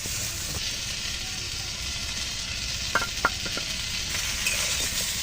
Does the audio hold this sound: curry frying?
yes